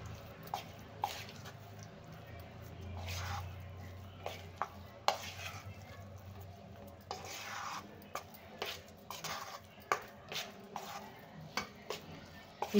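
Rava appe batter mixed with a spoon in a bowl, a quiet run of irregular clinks and scrapes against the bowl with soft stirring between them, close by and without talk.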